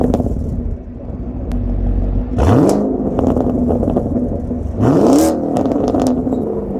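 A 2019 Chevrolet Camaro SS 1LE engine idles with a low burble through its sports exhaust, then revs sharply twice, each blip rising and falling, loud and close.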